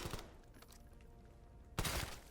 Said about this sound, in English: Bang, easy headshots.